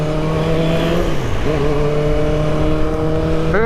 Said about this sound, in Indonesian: Motor pelan tapi suaranya kenceng banget. Karena RPM-nya tinggi guys.